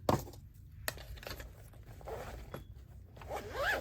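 A zipper is drawn closed on an art supply case holding graphite materials and fine liners, a quiet series of short ripping zips and clicks heard up close with no talking.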